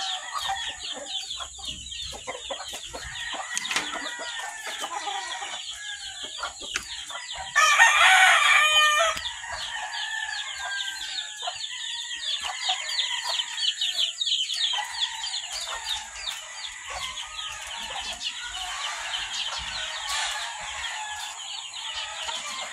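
A young fighting cock crows over and over alongside steady clucking and other chickens, with no people present. The sound stays at moderate loudness throughout, and one crow near the middle rises louder and harsher than the rest.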